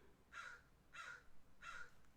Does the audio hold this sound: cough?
no